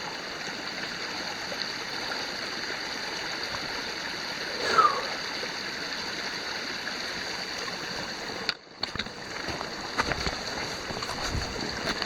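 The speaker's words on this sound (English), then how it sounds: "You can hear the water" Creek water flows and trickles steadily nearby, a constant rushing hiss with a few louder splashes and brief rustles toward the end.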